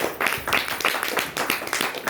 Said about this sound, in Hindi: तो इसके लिए तालियां बजाएंगे BXN के लिए